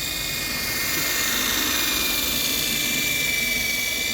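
A polishing machine runs at high speed on a dome, a steady close whirring roar with a thin high whine on top. It holds an even level throughout, with no talking.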